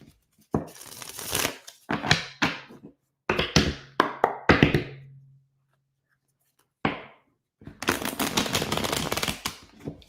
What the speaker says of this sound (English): One more shuffle, Virgo.